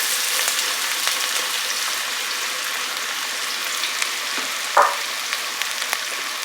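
Shallots sizzle and fry in a generous pool of hot olive oil over medium heat, a steady close crackle with a brief louder hiss near the end as they settle in the pan.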